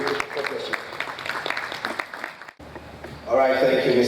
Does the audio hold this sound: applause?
yes